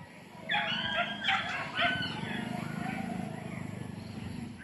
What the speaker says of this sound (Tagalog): lagi maingay yung aso